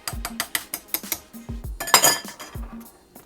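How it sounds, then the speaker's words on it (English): A spoon clanks repeatedly against a pot of bean chili as it is stirred, a quick run of close, bright metallic clinks and knocks, alone with no talk. "So I'm gonna stir it up, let it cook for a little bit."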